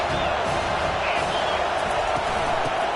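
Football stadium crowd at an Auburn game, a dense, steady roar of cheering that fills the whole moment without letup, loud and spread wide with no single voice standing out.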